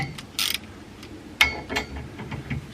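Nut being backed out with a wrench while installing a harness bar in a 991.2 Porsche GT3 RS, a few close metallic ratcheting clicks and scrapes in short irregular bursts.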